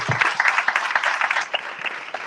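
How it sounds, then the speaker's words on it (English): An audience at a Changemakers talk breaks into steady, dense applause right after the speaker finishes, with a lively patter of clapping hands filling the whole stretch. "Can we give Alex a round of applause?"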